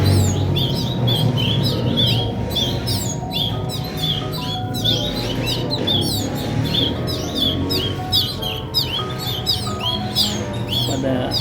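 Several canaries, including Yorkshire and Felix Buffon types, chirp and trill constantly in close, busy overlapping bursts over a dense background hum, with no talking.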